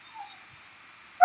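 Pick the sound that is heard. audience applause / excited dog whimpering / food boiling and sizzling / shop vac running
excited dog whimpering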